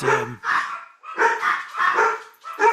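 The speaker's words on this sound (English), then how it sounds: "I apologize for the dogs here" Dogs bark several times in quick bursts, loud and close, with short gaps between the barks.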